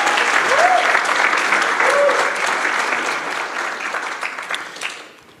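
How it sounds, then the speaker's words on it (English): A conference dinner audience applauds the chefs and waiting staff, a thick sustained burst of many hands clapping that gradually thins and fades out, with a voice or two briefly audible early on. "can we also have a round of applause for the chefs, for the waiters and for the waitresses"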